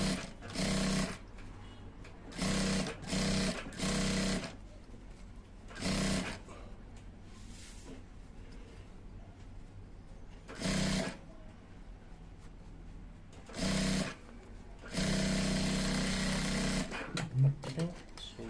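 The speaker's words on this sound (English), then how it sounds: "So I'll quickly sew this round." A sewing machine stitches around a welt pocket on English trousers in repeated short runs, with a longer final run, all recorded close up and separated by quiet pauses and light handling noise.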